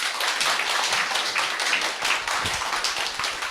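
An audience claps to welcome a speaker at a company lecture event, sustained dense applause from many hands throughout, with no talk over it.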